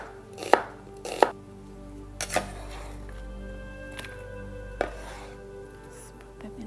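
Peppers for a Moroccan salad being sliced with a knife on a cutting board, several crisp chopping knocks, a few louder strikes spaced apart, close and clear without speech.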